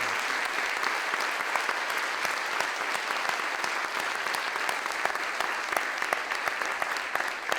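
Sustained audience applause at a CUNY evening event in Mexico honoring a college president, a dense steady wash of many hands clapping at even loudness with no speech.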